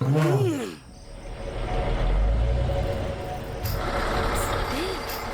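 A truck pulls up at a roadside spot with a loud, rumbling engine and a sharp air-brake hiss, a brief whine in the low end, then the engine keeps idling steadily close by.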